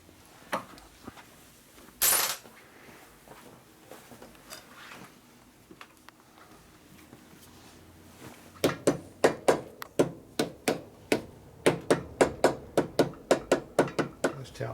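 Hammer tapping parts into a Harley-Davidson FXR cylinder head during a top-end rebuild: a few scattered knocks and one sharp clank, then a rapid run of close metallic taps in a quick, uneven rhythm.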